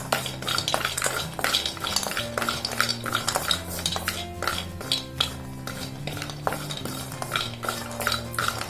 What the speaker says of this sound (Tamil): மசாலா பாலுக்கு நம்ம வந்து முதல்ல பாதாமை வறுத்துக்கலாம்.